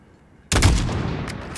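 A single sniper rifle shot in Call of Duty Modern Warfare, fired at a target 600 m away: a sharp, loud report that bursts in suddenly and rolls into a long, booming echo with no voices over it.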